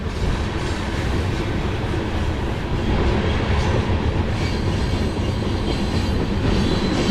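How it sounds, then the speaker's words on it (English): A long freight train rolls past on a rural line in Montana's old Milwaukee Road territory, a continuous heavy rumble of wagons and wheels with rhythmic clattering that holds steady throughout. "This is a good long car, or long train."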